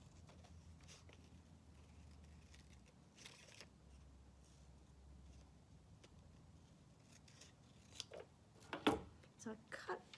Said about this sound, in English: So I cut just a little bit above that line.